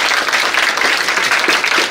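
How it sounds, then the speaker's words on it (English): An audience at a first selectmen debate held on a university campus breaks into a dense burst of clapping, close and fairly loud, sustained evenly for a couple of seconds without voices. "You can give them a round of applause for that."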